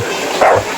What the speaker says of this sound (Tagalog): Yan yung aso namin guys, si Ang.